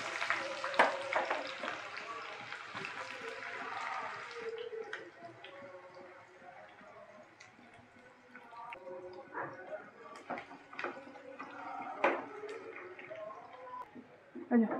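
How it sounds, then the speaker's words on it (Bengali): Sliced onions frying in hot mustard oil in a kadai until browned, a soft sizzle with crackles and stirring scrapes, louder at first then quieter with intermittent pops, fairly faint overall. "তেল গরম হয়ে গেছে, আমি পেঁয়াজের বেরেস্তাটা আমি বানিয়ে নেব।"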